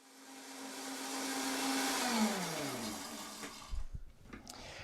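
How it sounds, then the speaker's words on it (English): A blender purées brittle dehydrated woody herb stems with a loud steady whir. The pitch sags as the motor loads up, then it cuts off and leaves a few clattering knocks. "I'm gonna give it a quick puree"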